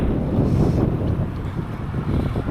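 Wind buffets the microphones outdoors in a continuous, loud, gusting rumble with no voices, rising and falling slightly.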